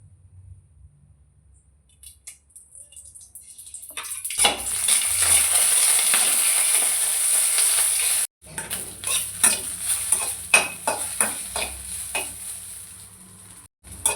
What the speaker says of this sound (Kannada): ಇವಾಗ ಮೆಣಸಿನ್ಕಾಯಿನ ಹುರ್ಕೊಳ್ಳೋಣ. ಈಗ ಮೆಣಸಿನ್ಕಾಯಿಗೆ ಸ್ವಲ್ಪ ಎಣ್ಣೆ ಹಾಕ್ಕೊಳ್ಳೋಣ.